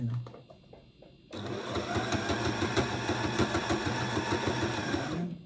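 Sewing machine stitching a repair on an army flag of the 13th Royal Hussars, starting after a quiet moment into a fast, steady mechanical whirring and rattling that runs close and loud to the end.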